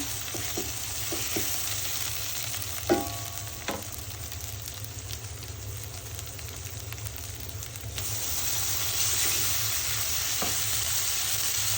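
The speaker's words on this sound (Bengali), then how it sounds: "টমেটো এখন আমি ভালো করে একটু ভেজে নিব" Tomato frying with ginger, cumin and garlic paste in a pan, a steady moderate sizzle with a few stirring clicks, growing slightly louder near the end.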